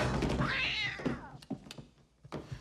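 A cat lets out a long, drawn-out meow, loud and close, followed by a few soft thumps and brief noises in a quiet setting.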